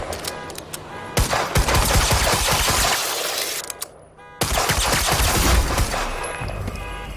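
Gunfire in the video game Quantum Break: dense, loud automatic bursts with shattering and breaking debris, a brief lull midway before the rapid firing resumes just as intensely.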